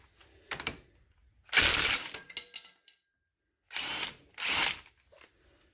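A cordless impact wrench rattles in several short, loud bursts on a RZR 570 side-by-side during a portal and lift install. A brief first burst is followed by a longer run, then two more quick hammering bursts, with quiet gaps between them.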